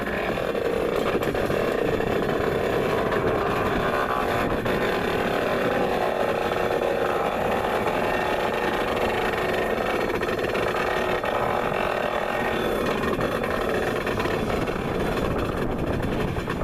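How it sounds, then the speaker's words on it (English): A pair of railway locomotives rumbles as it rolls along the line, a loud, continuous diesel drone with steady engine vibration that holds throughout without a break. "the pair of engines began to roll north again"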